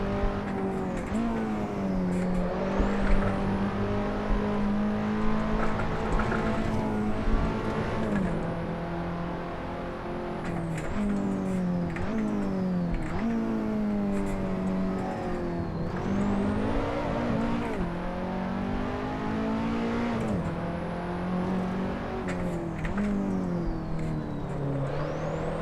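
A KTM X-Bow race car lapping Silverstone in the Assetto Corsa racing game, its engine revving high and dropping through gear changes in a continuous loud whine, with brief tire squeal in the corners.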